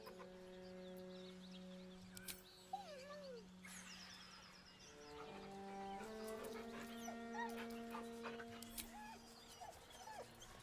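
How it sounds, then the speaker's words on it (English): A dog in a Dungeons & Dragons style fantasy game setting whines softly in thin, wavering, high-pitched cries that rise and fall over a sustained droning music bed, fairly faint and distant. "He whines, but remains rooted by the corpse's side."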